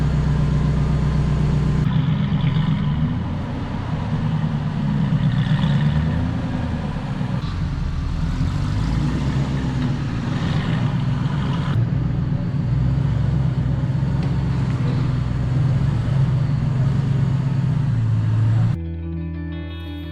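A cheap Aston Martin car running for the first time after a rebuild in a shop, with a steady loud engine drone throughout. The engine changes tone slightly and cuts off near the end.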